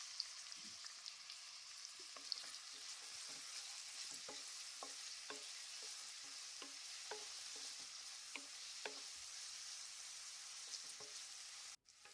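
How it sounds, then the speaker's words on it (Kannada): Onions and garlic frying in a pan for tomato fried rice, a steady soft sizzle with scattered stirring clicks throughout, close and alone, with no talk. "ಈರುಳ್ಳಿ ಸಾಫ್ಟ್ ಆಗೋ ತನಕ ಫ್ರೈ ಮಾಡ್ಕೊಳ್ಬೇಕು."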